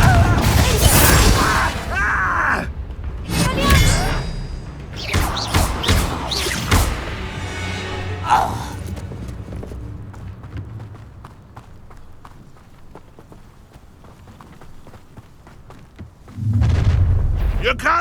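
A Confringo blasting spell fires in Hogwarts Legacy, a booming burst among game sound effects and spoken dialogue, with another heavy blast near the end.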